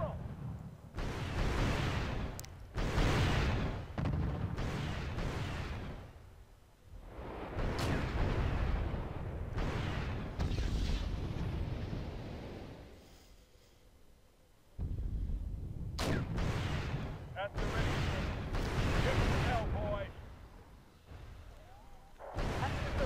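Heavy booming blasts and rumbling impacts of artillery and missile fire pound an Abrams tank battle in a war video game, loud and nearly continuous with brief lulls.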